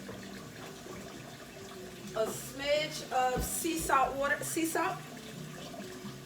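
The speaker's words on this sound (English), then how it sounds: "So I've got my water running." Tap water runs into a sink during vegetable prep after a garden harvest, a soft, steady trickle in the background while someone talks over it close by.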